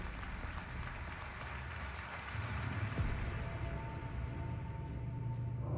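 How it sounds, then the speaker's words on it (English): Applause in a theater hall in the video game Alan Wake 2, a steady, dense wash of clapping that swells slightly midway and continues throughout, moderately distant. "I hear applause."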